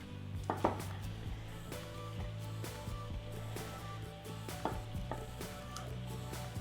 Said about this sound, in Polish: W tym czasie pokroję drobniutko pół kiełbasy.